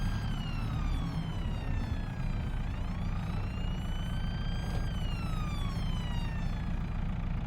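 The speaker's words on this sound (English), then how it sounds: "Is that a siren?" A video game police siren wails, its pitch sweeping up and down over a steady low engine rumble.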